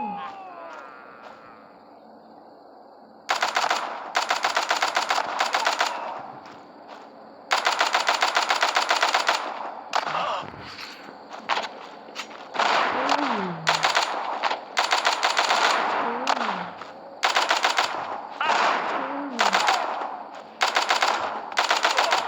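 Gunfire in the zombie shooter game The Walking Zombie 2: Shooter, loud repeated automatic bursts in several separated volleys, with brief pauses between them and no talk over the shots.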